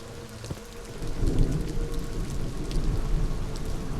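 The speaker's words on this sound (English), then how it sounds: "It's raining." Steady rainfall in the video game The Mound: Omen of Cthulhu, a dense hiss of drops on surfaces that swells louder after the first second with a low rumbling undertone, no speech.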